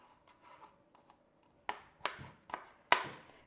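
Fresh tomatoes diced with a knife on a cutting board, a few quiet taps followed by four crisp, evenly spaced chops close up.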